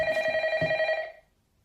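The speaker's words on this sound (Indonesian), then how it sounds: "telepon pun kemudian berdering" A telephone in a Japanese horror film rings with a bright, rapidly trilling bell for about a second, then cuts off into silence.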